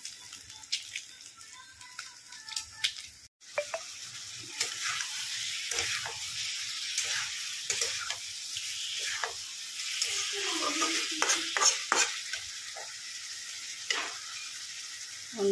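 Eggs frying in a pan for an Odia-style egg curry, with a steady sizzle throughout, broken by occasional stirring scrapes and faint water sounds, close up with no talking.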